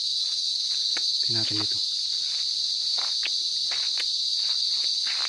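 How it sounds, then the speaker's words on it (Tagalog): A steady, loud, high chorus of insects fills the air on a rural farm lot planted with jackfruit and banana, constant throughout, while a person speaks briefly and footsteps shuffle nearby. "humuhunin yung mga kulisap."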